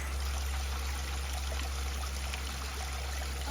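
Trail stream water runs steadily nearby, a continuous soft rushing and trickling with no voices, under a low constant hum.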